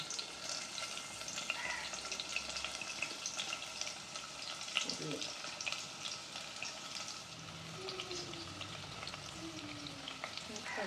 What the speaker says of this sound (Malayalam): ഇത് നമുക്ക് എണ്ണയിലേക്ക് ചേർത്ത് കൊടുക്കാം ആദ്യം നമുക്ക് സവാള ഇട്ട് കൊടുക്കാം